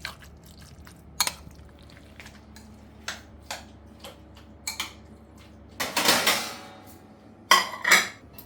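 Chicken salad with yogurt, salt and pepper is mixed in a bowl: a spoon taps and clinks against the dish in scattered strokes, then a louder burst of scraping near the end.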